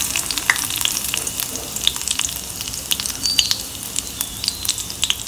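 Fennel seeds temper in hot oil in a kadai, a close, continuous frying sizzle dotted with sharp little pops and crackles throughout.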